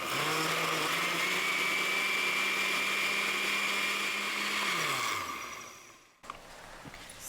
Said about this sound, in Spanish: Y ahora sí los molemos. Mientras se muele voy a poner el aceite a calentar.